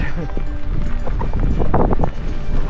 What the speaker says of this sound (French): J'ai le vent d'en face.